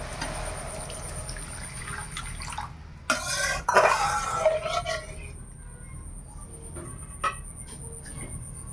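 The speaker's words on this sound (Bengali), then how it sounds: "সুন্দর ভাজা হয়ে গেছে এবার জল দিয়ে দিই" A burst of loud sizzling and hissing as water hits hot oil with frying river bata fish, with clinks of a pan and utensils, settling into quieter crackle over a steady insect chirp.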